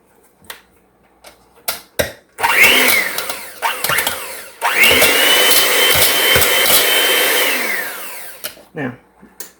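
A food processor blasts creamed sweet potato topping in two short bursts, loud and close, with scattered clicks and handling knocks around them.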